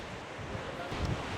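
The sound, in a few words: strong wind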